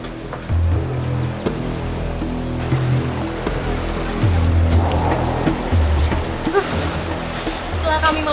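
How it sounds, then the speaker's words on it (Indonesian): Fast-flowing water of the Batang Serangan river near Tangkahan, Langkat, rushing steadily throughout as it is crossed, a broad continuous churn with splashes, voices talking over it. "Kami pun harus menyeberangi Sungai Batang Serangan terlebih dahulu, yang saat ini memiliki arus cukup deras."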